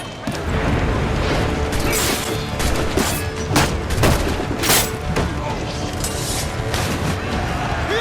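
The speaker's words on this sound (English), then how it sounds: "we're just going to use the swivel guns" Swivel guns firing at a ship in Assassin's Creed IV: Black Flag, a dense, loud barrage of repeated booming shots and crashing impacts over eight seconds, with faint talk mixed underneath.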